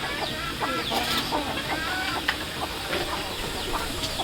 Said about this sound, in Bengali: এই দেশি মুরগিকে ফাইটারে ডিম দিয়ে বসিয়েছি